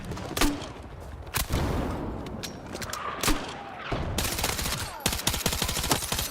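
Rapid bursts of automatic gunfire in Battlefield 6, short tapped volleys separated by brief pauses, then a denser string of shots near the end, loud and close with a steady background din.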